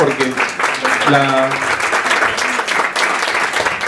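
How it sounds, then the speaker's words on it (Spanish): Conference audience applauding at a cultural talk about the Marinera Limeña, a steady dense wash of clapping throughout, with a voice speaking briefly over it near the start. "por favor, un aplauso para Doris"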